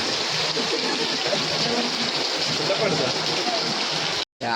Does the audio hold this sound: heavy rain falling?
yes